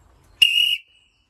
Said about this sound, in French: Alors le sifflet à billes